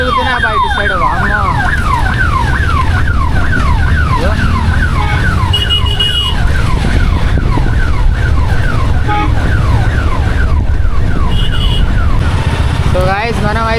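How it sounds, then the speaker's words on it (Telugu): Ambulance sirens wail through busy Kolkata city traffic, a continuous, rapidly sweeping up-and-down tone that stays loud for the whole stretch over a steady roar of engines and street noise. "అంబులెన్స్లు చాలా తిరుగుతున్నాయి బయట సైడ్."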